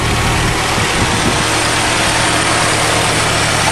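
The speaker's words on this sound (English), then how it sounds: "Runs like brand new. What a sweet old motor." An old Nissan car engine idles steadily with a low, even rumble and a constant hum, close by and loud throughout, with no talking.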